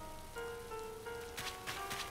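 Light rain falls in the video game Animal Crossing: New Horizons, a soft steady patter with faint sustained musical tones and a few brighter droplet taps, gentle and quiet with no talking.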